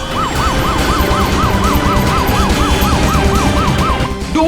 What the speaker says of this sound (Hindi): जल्दी से एम्बुलेंस मंगाओ जल्दी